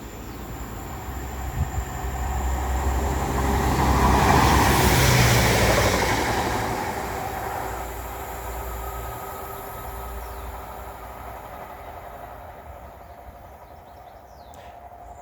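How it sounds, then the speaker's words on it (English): A diesel passenger train passes at Coseley, its rumble building to a broad peak midway, then fading into a long steady roll with no voices. "They ain't a bad design of train either, but you'd expect them to be an electric train, not a diesel."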